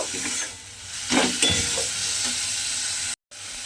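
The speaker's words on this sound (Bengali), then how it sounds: "এবারে মূলোটাকে আমি এর মধ্যে দিয়ে খুব ভালোভাবে একটু কষিয়ে নেব।" Radish being sautéed with spices in a pan, a close, steady sizzle with a few scraping stir strokes and a brief dropout near the end.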